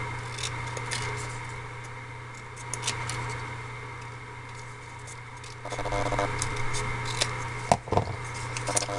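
Scissors cut a half-inch edge off a strip of Tyvek-like paper, a few crisp snips near the end over a constant low room hum, close and fairly quiet, with no talking.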